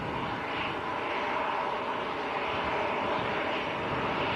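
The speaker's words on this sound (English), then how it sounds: "Right, EasyJet. Lined up and ready to go." An EasyJet airliner departs at Manchester airport: a loud, steady jet-engine roar with bright whining hiss, sustained and unbroken as the engines run up, with no talking heard.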